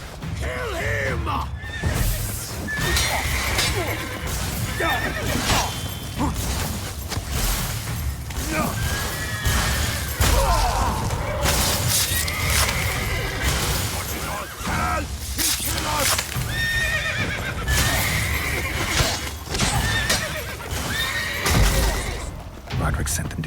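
Horses whinny in the video game Witcher 3: Blood and Wine amid a busy, continuous din of clattering hooves, crashes and shouted voices, loud throughout.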